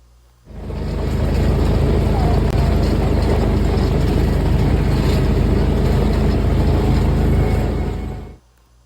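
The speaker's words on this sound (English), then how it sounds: "I love that sound of that tractor thing going" A tractor engine running in a field in New Mexico drones loudly and steadily, fading in abruptly and cutting off after about eight seconds, a close, even rumble with no voices.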